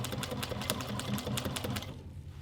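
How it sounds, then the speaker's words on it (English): A sewing machine backstitches through leather on a two-toned boxy bag, a fast even run of stitching clatter close by that slows and stops near the end, with no voices. "I'm just gonna go back to my sewing machine and just backstitch over the area where I don't want it to rip anymore."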